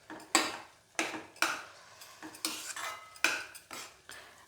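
A utensil stirs ingredients in a metal cooking pot, making about nine distinct clinks and scrapes in an uneven rhythm, close and clear with no talk.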